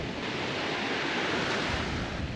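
Surf breaking steadily on a Florida Panhandle beach, a continuous broadband wash of waves with some wind noise across the microphone, close and unbroken, with no voices.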